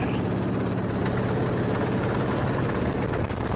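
Go-kart engine buzzing steadily on a karting track, a continuous mid-loud drone with slight rev fluctuation over a few seconds and no talk.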